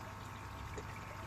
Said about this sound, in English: Fountain's running to my plant filter, you can hear it in the background.